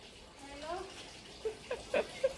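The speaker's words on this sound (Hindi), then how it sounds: "गर्म पानी उसका भर जाएगा" Hot water running into a container at home, a soft steady pour with a few brief clinks and splashes near the end, faint and close.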